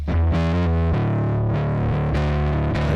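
A mixed music track is pushed through extreme distortion, producing a dense, saturated, buzzing wall of sound with chord changes, loud and continuous throughout.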